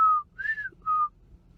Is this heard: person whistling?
yes